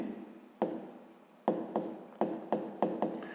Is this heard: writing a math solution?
yes